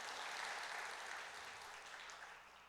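Faint, distant applause from a church congregation for its choir during a Sunday service, a soft wash of clapping that slowly tapers off.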